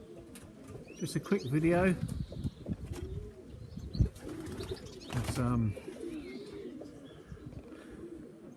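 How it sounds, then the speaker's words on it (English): Young birds coo outdoors late in the evening: soft, repeated coos with some wing flapping, heard beneath someone talking close by. "Just put some young birds out."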